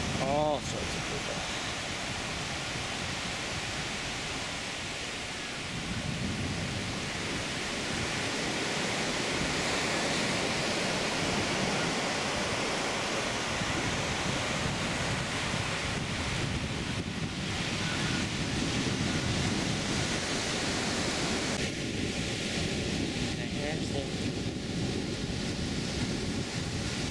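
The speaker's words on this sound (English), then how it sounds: "Pretty good wind here." Wind and surf roar continuously at Playa Potrero beach, Costa Rica, a dense broadband wash with gusts buffeting the microphone throughout; a faint voice speaks briefly partway through.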